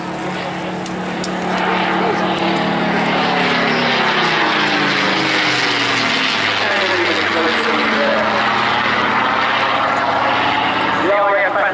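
A piston-engined propeller warplane of the Battle of Britain Memorial Flight passes low at an airshow. Its engine drone rises and swells with a shifting Doppler pitch and stays loud throughout, with a commentator's voice at the start.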